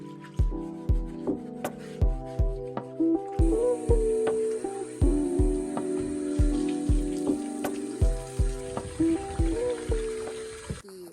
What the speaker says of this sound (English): I'm gonna scrub it here with a little sponge and fill it up with some new water